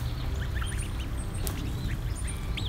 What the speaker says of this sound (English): The ducks are over here all by themselves